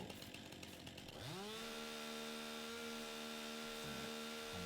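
A chainsaw on a farm starts up and runs steadily at a loud, close, sustained whine, its pitch dipping briefly as the engine bogs before recovering, with no talk over it.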